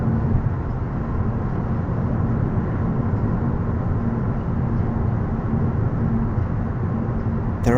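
A 2026 Mazda 3 automatic drives hard through bends, a steady, loud engine drone at high revs blending with road and tyre rumble inside the cabin, with no pause.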